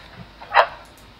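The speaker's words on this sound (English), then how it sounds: "and then you hear a bark" A single short dog bark comes from a played-back EVP recording, one clear close yelp in the middle of a quiet stretch, with no speech over it.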